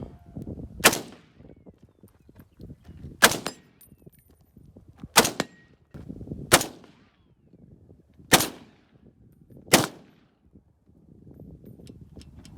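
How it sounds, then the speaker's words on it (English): Six sharp, loud rifle shots from an Imbel FAL ring out at an outdoor gun range, spaced a second or two apart, each with a brief echo and low background rumble between them. "Damn, this thing's sick."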